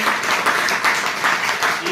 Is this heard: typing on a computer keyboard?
no